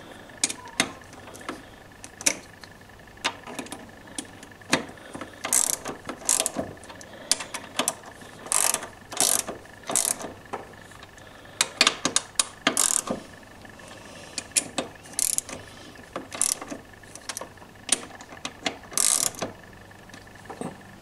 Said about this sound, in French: à l'aide d'un cliquet équipé de la douille qui convient